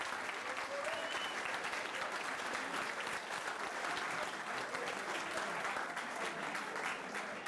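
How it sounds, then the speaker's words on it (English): Sustained applause from a banquet crowd honoring the kitchen staff at a high school fall sports banquet, steady dense clapping filling the room for several seconds with faint voices mixed in. "how about a nice round of applause for Jordan Mueller and our kitchen staff"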